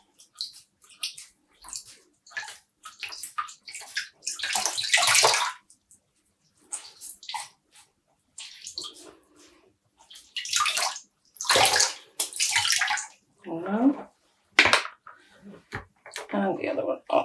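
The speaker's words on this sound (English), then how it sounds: "And squeeze out the water." Dyed mohair yarn skeins are squeezed by hand over a basin of water, giving repeated close sloshing and dripping gushes in several bursts, with a voice speaking briefly between them.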